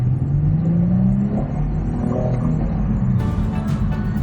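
A Nissan Note Aura e-POWER hybrid compact (FE13) accelerating at full throttle, heard from inside as a steady rising electric whir over low road rumble, moderately loud with little engine intrusion.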